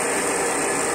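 A milling machine's electric motor runs steadily at close range, giving a continuous broadband whirring hum with a constant level through the whole second and no voices.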